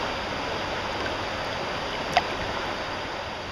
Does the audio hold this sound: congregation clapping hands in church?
no